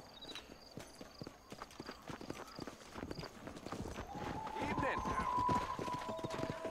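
Horse hooves clip-clop on foot in Red Dead Redemption 2, a quick irregular rhythm of close hoofbeats, joined midway by a rising tonal game sound, while someone talks over it.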